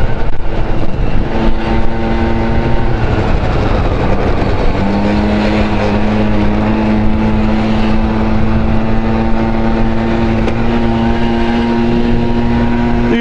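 A Honda Dio 27 scooter ridden through town drones steadily and loudly, its engine note holding a sustained tone that rises slightly partway through amid wind noise.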